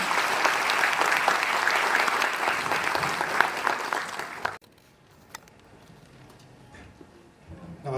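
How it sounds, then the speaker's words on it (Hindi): A foundation day crowd welcomes a speaker to the stage with strong, dense clapping for about four and a half seconds, which then stops abruptly into a quiet room with faint stray sounds. "आइए जोरदार तालियों के साथ मंच पे स्वागत करते हैं"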